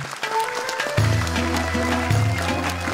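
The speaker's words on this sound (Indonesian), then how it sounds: "Boleh tepuk tangan untuk Ustadz Muhammad Kasif Her." An audience at the Hafiz Indonesia 2024 Quran memorization competition applauds a guest judge, the clapping swelling loud and sustained as music begins underneath.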